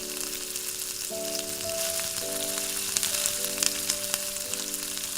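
Chili chicken sizzles steadily in a pan after chili sauce goes in, a close, even frying hiss under a sustained musical tone, with a few faint clinks toward the end.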